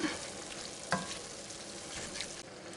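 Venison enchilada mix cooking in a cast iron pan, giving a steady, close sizzle with a couple of soft stirring knocks, no one speaking.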